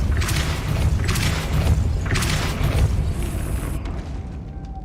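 A Depulso spell is cast in Hogwarts Legacy, heard as a run of heavy booming thumps and magical impacts that ends in a sudden cutoff and then quieter ambience.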